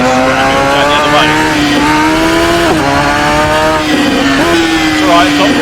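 A Radical SR3 XXR race car engine in the racing game Assetto Corsa, a loud high-pitched buzzing whine that climbs through the revs, dips sharply at gear changes and climbs again, close and constant.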